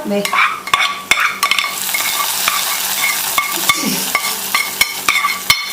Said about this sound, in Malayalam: ഇനി നമുക്ക് ഓഫ് ചെയ്ത് വെച്ച് ചട്ടിയിലേക്ക് താളിക്കാം